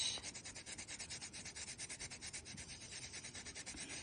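Fine micro mesh sanding a polymer clay ring piece, a soft rhythmic back-and-forth rasp repeating steadily several times a second, close and quiet with no voices.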